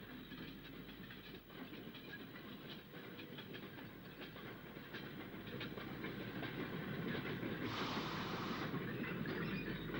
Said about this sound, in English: the colliery used 2040 saddle tanks, Shakespeare and Hornet, which is seen shunting the interchange yards